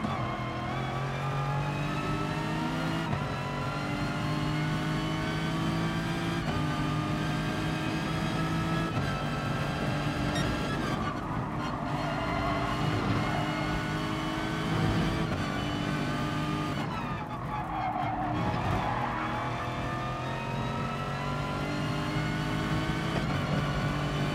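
A Gr.2 race car engine in the GT Sport video game drones steadily and loudly for the whole stretch, holding a fairly even pitch with slight swells and dips as the car is driven.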